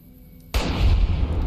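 Rifle gunfire in the video game Fallout New Vegas: an abrupt, loud blast that gives way to a sustained, rumbling roar of shots lasting about a second, with no talking.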